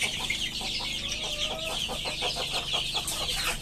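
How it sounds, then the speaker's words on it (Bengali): A nearly two-month-old rooster being fattened for Eid clucks in a run of short rhythmic calls close by, with other birds faintly around it and no voices. "এই যে মোরগটা"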